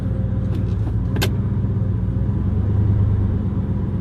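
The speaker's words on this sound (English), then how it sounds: "So got the Jeep rolling. Let's go ahead and pop it into gear." A Jeep ZJ rolling slowly as it is put into gear, a loud, steady, close engine rumble with a couple of brief clicks early on.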